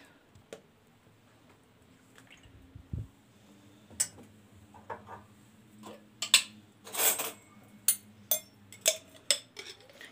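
A spoon clinks repeatedly against a bowl while vinegar, oil and harissa chili paste are stirred together into a fish marinade, giving sharp metallic taps that come faster toward the end over a quiet room.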